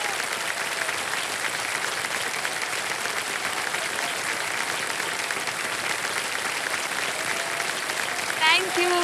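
A TV studio audience breaks into loud, sustained applause that fills the room evenly for several seconds, with a voice speaking briefly near the end.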